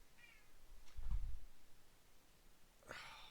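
A pet cat gives a short meow near the start and another sharper, louder meow toward the end, with a soft breathy thump between them, heard close in a quiet room.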